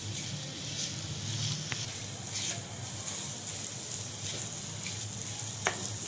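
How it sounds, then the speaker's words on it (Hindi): Potatoes fry in a small amount of oil for samosa filling, a soft continuous sizzle with occasional faint scrapes and taps of stirring. "थोड़ा सा आलू को बस फ्राई करना है हमने।"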